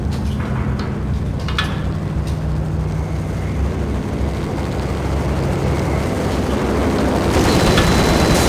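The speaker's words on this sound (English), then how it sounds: "The unmarked chopper was Horn's pet guardian" A helicopter in the video game Max Payne gives off a loud, steady rotor and engine rumble that holds throughout and swells slightly toward the end, with no voices.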